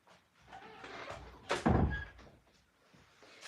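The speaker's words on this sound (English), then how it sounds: "I'm going to shut this door behind me." A door swings shut indoors with one loud, close thud and a short rattle, set between quieter room sounds. No one speaks.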